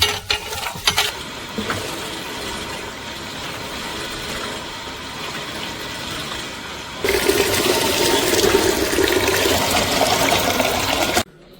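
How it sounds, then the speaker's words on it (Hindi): Uncooked rice, including Uttarakhand white varieties, being washed in water, with sloshing, swirling and pouring noises that grow louder in the second half before stopping abruptly. "चावल धो ले हैं हमने एकदम बढ़िया से साफ सफाई करके"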